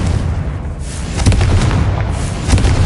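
The Confringo blasting spell in Hogwarts Legacy detonates with loud booming explosions, several deep blasts following one another over a few seconds with a rumbling tail.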